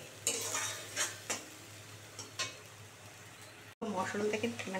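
A spice mixture for dhokar dalna is sautéed in a pan, with soft rhythmic spoon strokes and scrapes over a low sizzle and a brief pause before the stirring resumes more busily.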